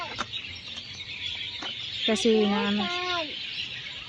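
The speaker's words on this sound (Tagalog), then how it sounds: "daming ibon guys" Several birds call and cluck in trees above a playground at night, with one clear rising-and-falling call in the middle, over faint ambient noise.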